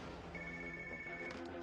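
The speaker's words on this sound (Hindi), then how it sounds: "सोफिया, तुम ALX ऑफिस को फोन करो" Telephone ringing on the line while calling an office, a steady electronic ring tone held for about a second over continuous background music and ambience, at moderate level, with no talking.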